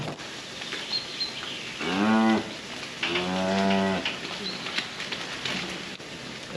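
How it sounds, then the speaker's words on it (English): An old dairy cow on a farm lets out two long, loud moos close by, over steady rain-like background hiss with faint birdsong. "It's one of the oldest cows on the farm."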